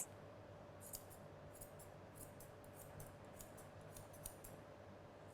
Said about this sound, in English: Always comb up and scissor several times.